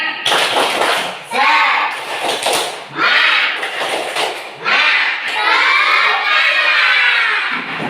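A school group in Indonesia performs a rhythmic spirit clap, loud bursts of sharp, unison claps alternating with energetic shouted chanting in several bold phrases.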